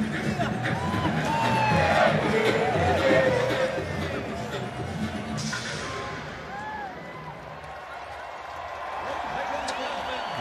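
Large stadium crowd at a rugby sevens match in Las Vegas, a broad hubbub of chatter with scattered whoops and cheers, swelling early then easing slightly, with voices talking over it.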